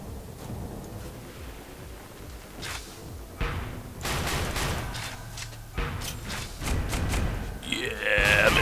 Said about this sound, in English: Ooh, it's a laser SMG.